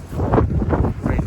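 Gusty wind buffets an outdoor microphone on a sunny, rainy, windy day, producing close, uneven low rumbling bursts with no talk.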